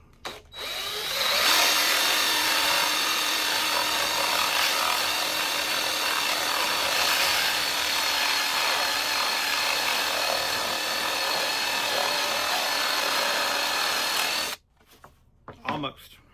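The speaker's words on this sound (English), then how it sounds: "find that center and that point, and then I'll drill it out." A steady, loud grinding buzz of a power drill boring out the center of a wooden circle jig runs for about fourteen seconds, then cuts off abruptly, leaving brief faint rattles.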